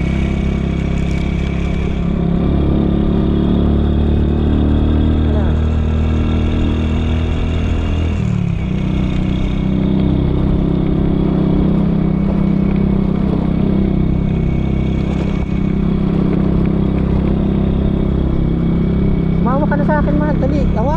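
A motorcycle engine drones steadily throughout while riding two-up on the Tinoc–Kiangan road toward Nueva Vizcaya, shifting pitch partway through, with people talking over the engine noise.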